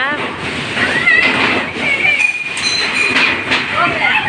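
Strong storm wind roars steadily in a constant broadband rush, with faint clinks and a high whistle cutting through, in Tiruvannamalai district, India.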